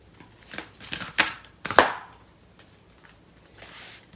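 Tarot cards being shuffled in a few quick riffling bursts, close and crisp, followed by quieter handling and near silence.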